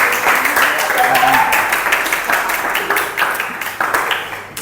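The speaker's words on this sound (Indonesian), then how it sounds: "Oke, tepuk tangan dulu anak-anak." Schoolchildren in a junior high classroom clap their hands after a group presentation, a loud, close burst of many hands that holds steady, then thins and fades toward the end, with some voices mixed in.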